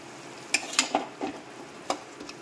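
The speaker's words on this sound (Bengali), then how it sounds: "এখন বাপির জন্যে চিকেন রান্না করছি" Chicken cooking in a pan, a soft hiss beneath a handful of scattered clinks and scrapes of a utensil against cookware, close but fairly quiet.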